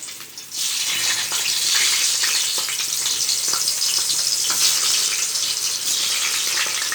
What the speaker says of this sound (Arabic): الطاسة دي بقى ننزل بالباذنجان كده